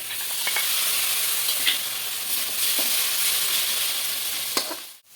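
Spice masala with yogurt fries in oil for a fish-head kalia, a close, steady hissing sizzle with occasional stirring scrapes and spatters, running continuously before cutting off abruptly at the end.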